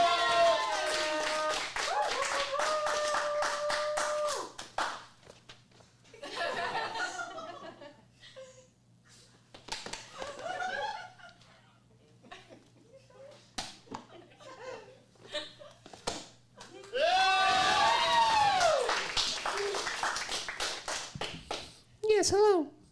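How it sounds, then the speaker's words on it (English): Scattered clapping and laughter from a small audience at an adult comedy acting showcase for a stand-up comedian, the clapping coming in short bursts between stretches of talking and chuckles. "let's give a big round of applause to Alex for closing out."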